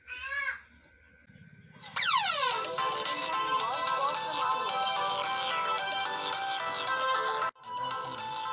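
A mobile phone ringtone plays on an incoming call, a melodic tune ringing loud and steady for several seconds after a short opening tone, with a brief cut before it resumes.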